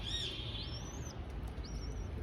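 A pigeon coos softly up close, with a couple of short chirps and thin whistling calls over a low, steady background hum.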